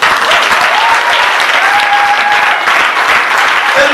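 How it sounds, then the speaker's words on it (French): A large audience applauds to cheer the women, a loud, dense, sustained clapping with a faint whistle or cheer rising briefly through it, close and unbroken. "C'est pourquoi je veux qu'on acclame les femmes."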